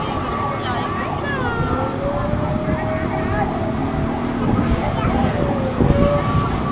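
An emergency siren wails during a large residential fire in Tondo, Manila, a rising and falling tone heard at moderate distance over crowd noise and street bustle, with people talking nearby.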